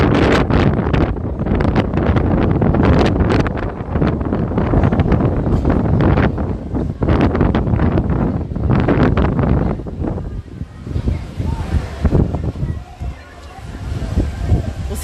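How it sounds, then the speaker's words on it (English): Strong wind buffets the microphone beneath an elevated monorail ramp, a loud roaring rumble that surges and dips in gusts throughout, easing briefly near the end before picking up again. "it's quite breezy all the time underneath here."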